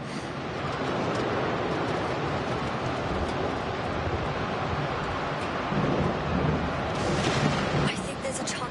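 In a video game, a thunderstorm rumbles continuously with a dense, heavy roar of rain and thunder. Rolling low booms swell near the end, and the storm continues throughout with no clear gaps.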